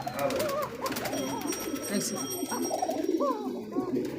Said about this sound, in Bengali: আমার পিছনে আছে নরকবুতর মাদিও দেখি ডাকে